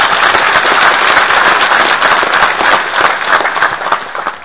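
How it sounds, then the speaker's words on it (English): An audience at an Irish citizenship ceremony applauds, a dense, loud burst of clapping that holds steady for several seconds before tapering slightly. "I'd ask you to also applaud those who joined us today"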